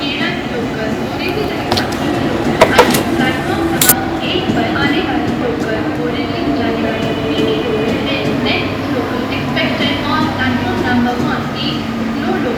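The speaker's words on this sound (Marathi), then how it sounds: "सगळ्यात उत्तम पर्याय म्हणजे मुंबईची लोकल" A Mumbai local commuter train near Grant Road rumbles and rattles steadily from inside the carriage, with a few sharp metallic clicks early on and faint voices underneath.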